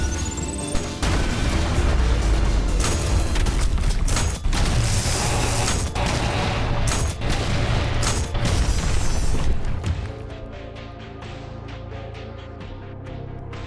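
A loud burst of booming explosions and crashing debris in ULTRAKILL as a rail cannon shot detonates a cannonball, dense and continuous, then cutting to a quieter mechanical hum near the end.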